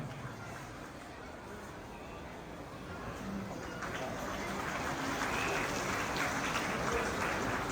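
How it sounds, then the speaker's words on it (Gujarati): Applause from a gathering at Girnari Ashram, Luvarvav, Palitana, greeting a saint, Batukgiri Bapu, honoured with a garland and shawl. Broad, steady clapping builds gradually and grows louder toward the end, with faint birdsong in the background. "જોરદાર તાળીઓથી વધાવશું"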